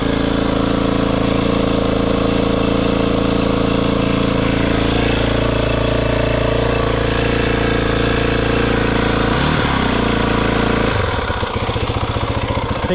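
A Maverick 4x4 engine runs loud and steady for about eleven seconds, then its tone changes abruptly toward the end as it cuts or stumbles. Nobody is heard talking over it.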